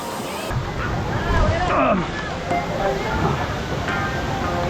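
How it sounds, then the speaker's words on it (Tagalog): Rushing water of a waterfall at Dingalan, Aurora, a steady broadband roar filling the scene, with a crowd's hubbub and nearby voices talking over it throughout. "Andito na kami sa waterfalls."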